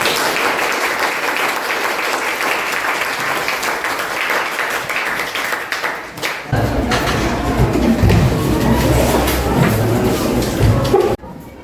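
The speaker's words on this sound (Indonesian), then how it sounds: "tepuk tangan untuk kelompok 1" Classmates clap for a presenting group in a school classroom, a steady, dense applause running about six seconds before turning into a louder, lower rumble of bumps and movement that cuts off near the end.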